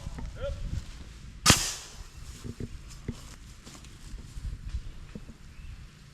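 A small cannon fires once at an amateur radio club field day outdoors, a sharp loud bang with a short decaying tail, followed by scattered quiet thumps and a soft voice in the background.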